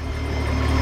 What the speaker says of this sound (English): I hear this car all the way down the block.